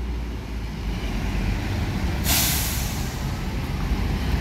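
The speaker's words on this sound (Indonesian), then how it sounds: "Ini konvoy bus NPM V83." Buses in a convoy at Alang-Alang Lebar bus terminal, a loud continuous engine rumble with a sharp hiss of air brakes partway through, no talking.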